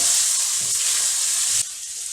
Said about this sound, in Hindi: अब आप इसमें ½ टीस्पून हल्दी डालें, भुने थोड़ा सा